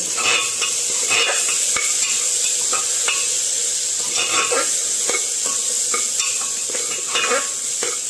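Ginger paste goes into a pan of fried potatoes, where it sizzles loudly and continuously while a utensil stirs and scrapes with repeated clicks against the pan, with no voices.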